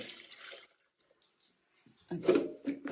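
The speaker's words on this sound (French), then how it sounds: "Ainsi que mon verre de bouillon dilué." Diluted broth poured from a glass over zucchini in a pot, a burst of liquid splashing in at close range after a quiet pause, with faint earlier kitchen noise.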